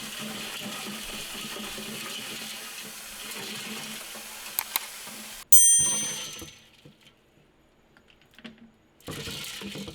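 Water pours steadily over ice and cucumbers in a bowl for homemade sweet pickles, a continuous splashing rush broken by a few bright clinks and a brief pause before the flow resumes.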